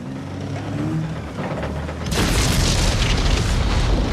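Battlefield gunfire and explosions from the war film Saving Private Ryan: a low rumbling passage gives way halfway through to a loud, dense barrage of booming blasts and crackling shots that fills the rest of the clip.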